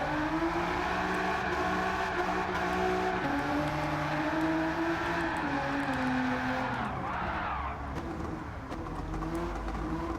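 Engine note of a drift-tuned Nissan Silvia with a swapped engine in Gran Turismo 7, a steady loud harmonic drone that rises and falls in pitch with throttle, continuous for the whole stretch with a brief dip near the end.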